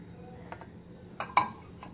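A bowl is handled while ragi (finger millet) flour is tipped in for dosa batter, giving a few soft, sparse clinks and taps close by in a quiet kitchen.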